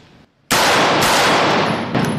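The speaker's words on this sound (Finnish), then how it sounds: "Ammutaan lisää." Gunfire from a Heckler & Koch SP5k, a sudden loud blast breaking a near-silent start and ringing on as a dense, sustained roar with another sharp report near the end.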